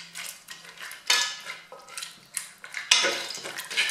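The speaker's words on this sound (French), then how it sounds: "Moi j'aime bien remuer un peu" Utensil scraping and clinking against a Cookeo pot as one-pot ham and cheese pasta gets stirred, with irregular close scrapes and knocks and no talking.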